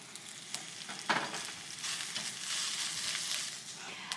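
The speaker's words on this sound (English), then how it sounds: "I'll start with the snow peas and the red peppers first because they take a little bit longer to cook than the bok choy and the cabbage do." Snow peas and red peppers stir-fry in a hot pan with a continuous, close sizzle, broken by occasional scraping stirs that swell the hiss.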